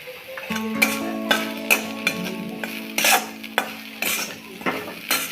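A spoon stirs masala into spring onion greens bhaji frying in a pan, making repeated scraping strokes against the metal at a steady rhythm over a soft, continuous sizzle.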